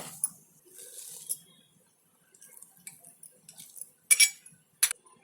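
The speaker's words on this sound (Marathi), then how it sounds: "आपण हे सगळं साहित्य मिक्स करूया" Ingredients for semolina (rava) vegetable pakoda batter get stirred together in a bowl, producing sparse, light clinks and scrapes of a spoon against the dish, separated by quiet pauses.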